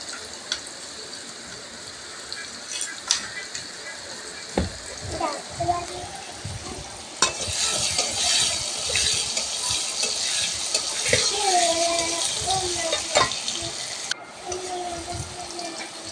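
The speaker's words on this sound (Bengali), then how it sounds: "আমার আলুগুলো ভাজা হয়ে গেছে" Potatoes frying in oil in a wok for a soybean and potato curry: a sizzle that swells into a dense, loud hiss midway, with scraping stirs and clatter, and a voice briefly heard over it.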